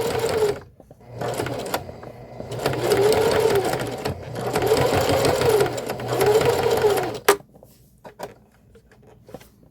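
Sewing machine stitching skirt fabric, running in three long bursts with short pauses between, close and steady, followed by a few clicks and light handling noises near the end.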